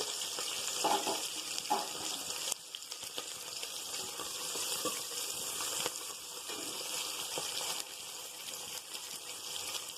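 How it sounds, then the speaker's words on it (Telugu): Green chilies and onions frying in hot oil at the start of a Telangana bagara rice: a soft, faint sizzle hisses steadily with a few light clinks, no talking. "ఆయిల్ హీట్ ఎక్కింది కాబట్టి పచ్చిమిరకాయలు ఉల్లిపాయలు"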